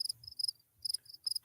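Crickets chirping as a sound effect, clear high trills in short bursts with brief silent gaps, fairly close and alone with no voices.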